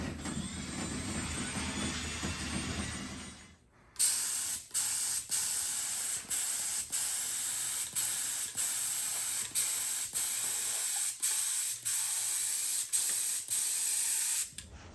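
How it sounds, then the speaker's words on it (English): Clear coat sprayed onto a wooden cross in short repeated bursts, each a loud close hiss cut by brief pauses, after an earlier stretch of steady broadband noise. "then we're gonna clear coat it"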